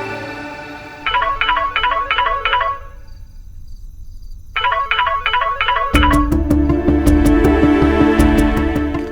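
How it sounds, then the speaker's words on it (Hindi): A telephone rings in repeated electronic trill bursts with a pause between them, then a brighter ringtone pattern continues over busier background sound. "फोन इधर दो, मैं करूंगा"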